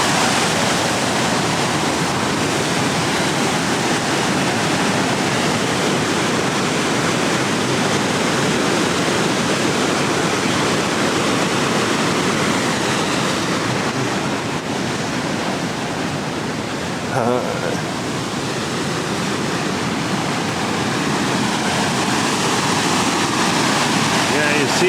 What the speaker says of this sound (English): Yeah, you see how rough this is. It's basically a waterfall, and it goes into that short cave.